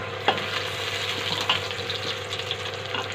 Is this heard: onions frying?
yes